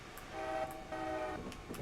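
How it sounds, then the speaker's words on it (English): A locomotive in Train Simulator 2015 on the Pine Creek Railroad sounds two long, even horn blasts over a low rolling rumble, with faint clanks at the end. "Yeah, look at that train."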